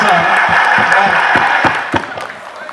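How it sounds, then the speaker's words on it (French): An audience at a Congolese community gathering at the Guinguette Africaine applauds an elected official standing in for the mayor, with dense steady clapping and murmuring voices that thin out and fade toward the end. "Et on l'applaudit."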